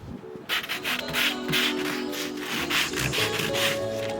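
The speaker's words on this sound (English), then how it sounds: "we're going to sand it anyway" Steady rhythmic scraping of sandpaper rubbing back and forth across wood, close and continuous with a repeating stroke pattern.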